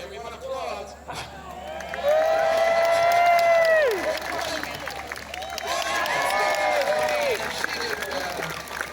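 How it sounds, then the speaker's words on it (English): A crowd applauds and cheers at an outdoor birds of prey show at a Renaissance festival, swelling into two sustained bursts of clapping and shouts, while a voice carries over a loudspeaker throughout. "We have to do this until everyone applauds"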